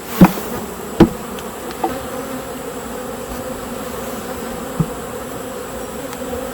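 Steady insect buzzing of a honey bee swarm drones throughout as bees are shaken off a hive screen, with a few sharp knocks and thumps breaking through.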